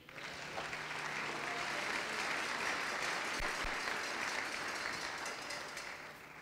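A church congregation applauding continuously, a dense, even wash of clapping from many hands that holds steady for several seconds before easing slightly, moderately distant.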